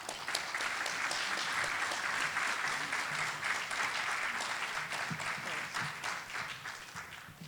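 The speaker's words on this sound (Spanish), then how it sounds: "Recibámoslo con un fuertísimo aplauso" An audience at a symposium on traditional Chinese medicine applauds to welcome a speaker, a steady, moderately loud patter of many hands that runs evenly and tapers slightly at the close.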